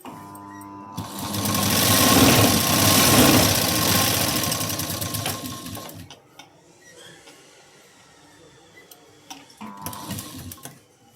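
A sewing machine stitches blouse fabric, running in a loud, steady burst for several seconds, then stopping, with quieter handling clicks and a brief second run near the end.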